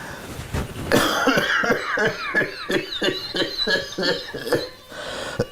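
A man coughs hard in a long, rapid series of harsh, close coughs, one after another, in a short comedy sketch.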